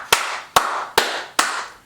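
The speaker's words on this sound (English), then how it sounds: "Am I the only one that applauds this stuff?" Four slow, evenly spaced hand claps, sharp and close with a short ringing tail after each.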